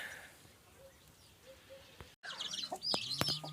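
A hen clucks softly, then a burst of high peeping from chicks and ducklings rises close by over a quiet background.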